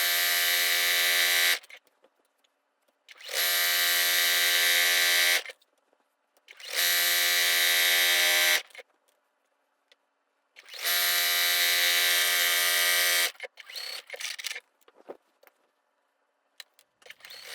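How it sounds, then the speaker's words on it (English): A sewing machine stitches denim binding onto a quilt in four long whirring runs separated by pauses, followed by a few short bursts, loud and close. "just continue to sew down the side of your quilt"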